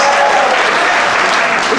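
An audience at a comedy show breaks into loud applause, a dense wash of clapping heard close and steady throughout, with a voice faintly underneath.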